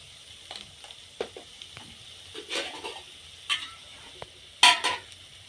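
Spice masala with turmeric and chilli powder frying in a pan while being stirred, for a soybean and egg curry: a soft sizzle with scattered scraping stir strokes and a sharper clatter near the end.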